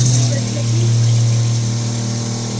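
A steady mechanical hum of an agricultural sprayer pump motor running continuously, with a strong low drone and broadband hiss throughout.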